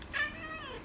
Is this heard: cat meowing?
yes